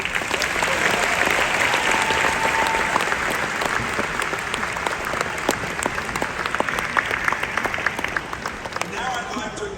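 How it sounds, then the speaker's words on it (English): A large university graduation ceremony audience applauds in a big hall, a dense continuous wash of clapping that holds steady for the full stretch, loud and broad, with a few sharper claps standing out. "Let's give a round of applause for everybody who's watching."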